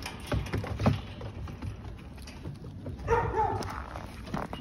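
A dog in a yard gives short barks and whimpers close by, mixed with clattering and rustling, while a person talks near it.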